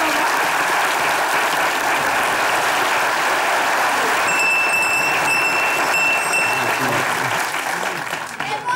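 A studio audience at a Turkish comedy show gives sustained, even applause lasting the whole stretch, with a high ringing tone sounding partway through.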